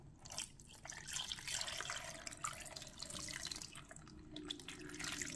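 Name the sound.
pouring half a litre of water into fish soup pot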